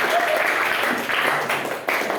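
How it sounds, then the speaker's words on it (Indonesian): A classroom of students claps for a classmate during a biology lesson: a short, dense burst of applause with some voices mixed in. "Tuh kelompoknya Basam nggak mau tepuk tangan buat Rama, ulangi tepuk tangannya"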